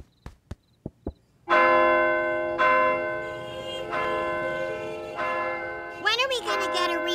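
A cartoon church bell in a bell tower tolls at midnight, loud and ringing with long sustained overtones, struck several times after a few short knocks, with a voice briefly heard near the end.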